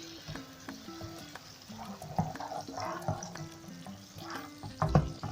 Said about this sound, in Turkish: Ve tereyağımız da çok güzel erimeye başladı.